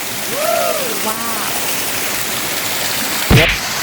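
A small waterfall in the hills of Khlong Prap subdistrict drops from a high cliff face, giving a steady, broadband rush of falling water throughout, with a few brief tonal whistles early on and a short louder splash near the end.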